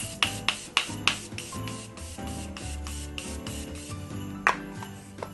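Short hissing bursts of setting spray on a face, several quick puffs at the start and another later, over faint rustling and handling noise close by.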